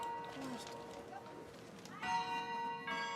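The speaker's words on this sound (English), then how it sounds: "At that moment, the bell rang." A bell in a visual novel video game rings out in sustained, resonant tones that swell near the end, heard alongside other game sounds.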